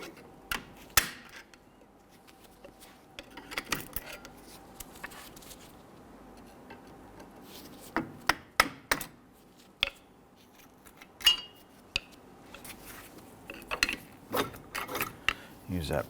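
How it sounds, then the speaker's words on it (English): Metal prying and clicking as a pry bar works brake caliper retainer clips loose on a 2011-2021 Jeep Grand Cherokee front wheel, with sharp irregular snaps and clanks scattered over quiet workshop background. "You can use a pry bar or a small screwdriver. I want to go ahead and dislodge the clips here."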